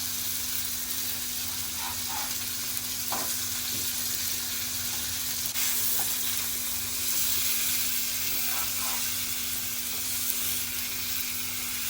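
Black creek fish frying in oil on medium heat, with a loud continuous sizzle throughout and a few faint knocks as the pieces are turned.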